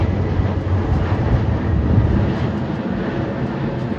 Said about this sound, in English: the biggest con to living in Loudoun Valley is gonna be airplane noise